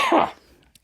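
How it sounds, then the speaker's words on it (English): A single short, harsh cough rings out close and loud, then fades into quiet. "I have a cough."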